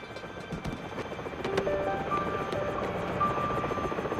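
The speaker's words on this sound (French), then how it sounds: "un nouveau sauvetage époustouflant signé Danny Burns et son robot hélicoptère." A robot helicopter from the Transformers Rescue Bots cartoon gives off a steady, moderately loud rotor-like whir that runs through the whole moment, mixed with sustained tonal effects and no speech.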